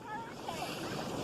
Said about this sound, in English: The waves are so high.